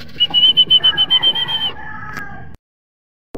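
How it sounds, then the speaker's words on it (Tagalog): Racing pigeons returning home to the loft, with a quick run of wingbeats and flapping bursts up close, followed by a shorter flurry, then a sudden cut to silence. "9:16 na kompleto ibon natin."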